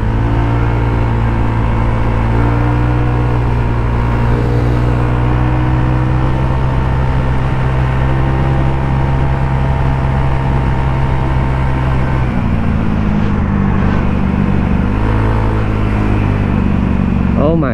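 Steady loud engine drone of a Honda Scoopy motor scooter while riding, with a constant hum and shifts in pitch, wind and traffic noise underneath.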